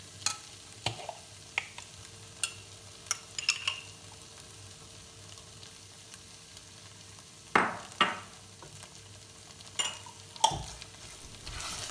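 Ada cooking in jaggery with ghee in a pan over a medium flame, a soft steady sizzle broken by scattered spoon scrapes and stirring clicks, close and fairly quiet, with no talking.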